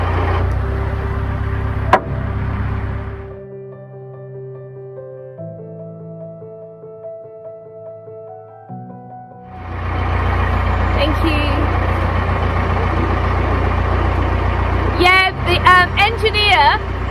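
A narrowboat's faulty diesel engine gives a deep, steady rumble that drops away into a quiet stretch with thin tones, then returns loud with people talking over it.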